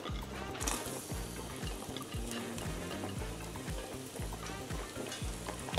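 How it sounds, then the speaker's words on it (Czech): Garlic sizzling in hot olive oil in a pan, a steady close crackling fry with occasional stirring, no voices over it. "tak tam přidávám ten česnek"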